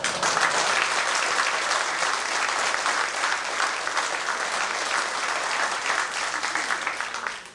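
Sustained audience applause at a 1991 civic jubilee ceremony in Gulpen honouring an alderman, steady dense clapping from a roomful of people that holds level and fades slightly at the very end.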